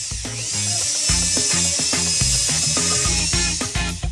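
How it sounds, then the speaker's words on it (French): A power drill whirs in short, stuttering bursts against a cola bottle, rattling and buzzing close by with a steady high whine throughout. "Et si on l'essayait avec la perceuse"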